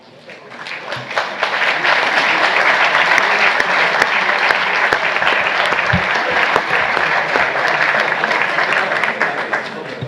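Sustained, loud applause from a NATO Parliamentary Assembly audience electing a president by acclamation, rising after a second and holding steady as dense clapping throughout.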